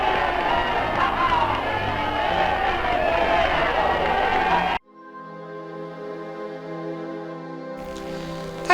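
A huge crowd cheering on VE Day in New York's Times Square, a dense continuous roar of voices for several seconds before cutting abruptly to music.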